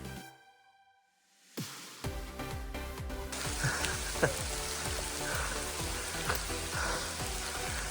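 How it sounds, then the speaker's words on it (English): Heavy rain pouring outdoors in the woods during a grouse hunt, a dense steady hiss with scattered pattering drops that rises abruptly after a brief quieter moment and then stays loud. "it's raining like crazy"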